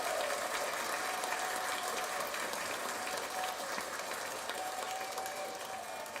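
Applause sound effect, a continuous, fairly faint wash of many hands clapping at a steady level with no voices over it.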